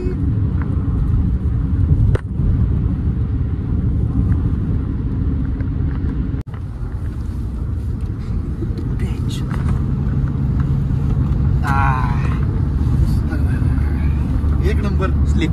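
A Mahindra XUV cruises on a highway at about 110 to 120 km/h, giving a steady, loud cabin rumble of road and engine noise throughout while people talk inside.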